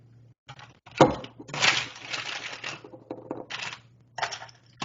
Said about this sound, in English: keep shaking a little bit longer